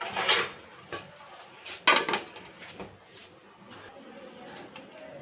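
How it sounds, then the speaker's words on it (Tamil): A metal lid goes onto a pot of food simmering on the stove, giving a few sharp, close clanks and clatters spaced over several seconds, with quieter rattles between them. "ஒரு மூடியை போட்டுடலாம்."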